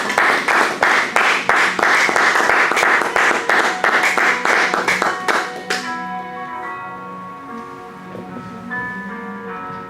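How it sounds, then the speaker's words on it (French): A church congregation bursts into loud, sustained applause and rhythmic clapping for the Lord at a French-language service, then the clapping thins and fades after several seconds into a lingering tonal ring. "Est-ce que quelqu'un peut acclamer pour le Seigneur?"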